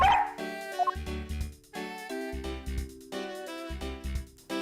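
Police dog barking in the Ace Attorney Investigations video game, a quick run of sharp yips and woofs up front over a bright, steady game music backing that carries on throughout.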